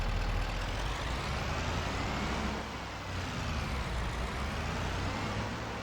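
Truck driving in the video game Farming Simulator 25, a loud, steady engine drone with broad rumbling noise that dips briefly midway and then holds on, with no talk over it.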